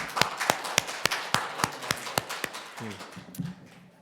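Congregation at a Korean church service claps in a steady, evenly spaced rhythm to welcome the pastor's wife, about a dozen sharp unison claps, fairly close, ending in a brief murmur.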